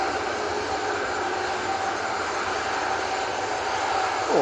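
A plane departing Manchester Airport, a steady broad jet-engine roar sustained throughout and rising slightly at the end, with no voices.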